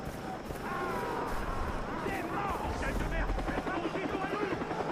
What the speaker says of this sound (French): Mais cours, il y a un hélicoptère. Hélicoptère.